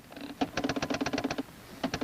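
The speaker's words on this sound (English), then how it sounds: "this tape is fed into the output typewriter, where the answer is clearly shown" A 1970s computer's output typewriter prints an answer, a rapid run of sharp mechanical key strikes, then a short pause and a few more, clear and close.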